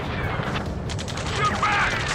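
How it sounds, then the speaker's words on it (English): Sustained game gunfire rattles through an Ace Combat 7 ground firefight, a dense continuous fusillade of shots with booming impacts, while shouted voices call out under the shooting. "Return fire! Sierra 2, hold position! We're cut off! Taking fire!"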